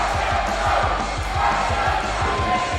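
Wrestling show crowd roaring and cheering in an arena, a loud continuous wall of voices with rhythmic thumps or stomps pulsing underneath.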